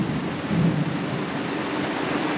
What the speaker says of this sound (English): there's another big clap of thunder coming